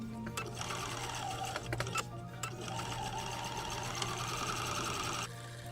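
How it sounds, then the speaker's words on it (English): A sewing machine hums along doing free-motion embroidery around the outline of a stamped cloth ostrich doll, a continuous rapid stitching rhythm with a steady motor drone and small clicks, cutting off just before the end. "So I'm sewing just outside of that stitched free motion embroidery stitched outline."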